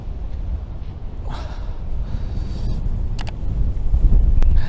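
Wind buffets the microphone behind a Black Sea harbor in Kıyıköy, a loud low rumble that builds toward the end, with faint distant sounds above it.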